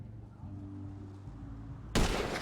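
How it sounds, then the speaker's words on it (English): A single loud gunshot in the video game GTA V, cracking sharply near the end after a low, quiet hum. "And now I'm taking the shot."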